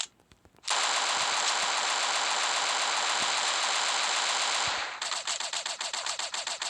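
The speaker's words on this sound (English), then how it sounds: "Did they nerf the SMG?" Rapid SMG fire in the sandbox shooter game Hypper Sandbox: a loud, continuous burst lasting several seconds, then a stretch of distinct, slightly spaced shots, with no talking.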